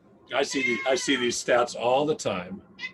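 A phone ringtone that sounds like a cat meowing plays under a man's speech, its drawn-out, meow-like cries mixing with his talking.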